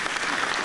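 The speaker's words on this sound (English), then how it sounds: "If we could have one last round of applause for the presenters" A brief burst of steady applause from a conference audience for presenters, dense clapping filling the moment.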